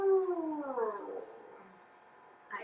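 A human voice imitates a cat, drawing out a gliding, falling meow-like tone that fades away, with a brief rising sound near the end, during a restorative yoga class.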